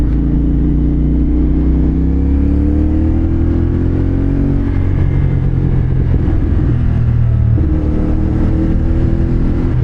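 Twin-cylinder CFMOTO 450SR motorcycle engine revving and pulling through rising and falling pitch sweeps on a road ride, loud and close with wind noise, no talking.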